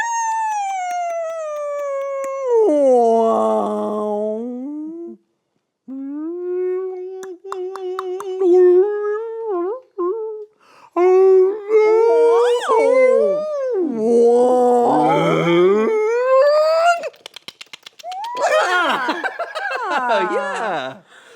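A voice imitates whale calls with long, sliding, moaning tones and squeaky rising and falling whistles, broken by short pauses.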